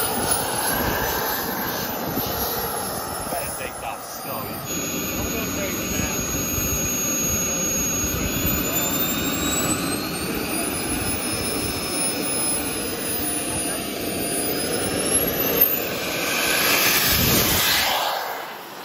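A large R/C model airplane's small jet engine roars steadily and loudly up close, a sustained whine and rush of thrust with faint voices under it.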